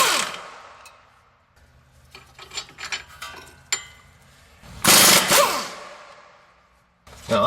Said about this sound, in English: So I have this 22 millimeter impact that I'm going to blast these off with.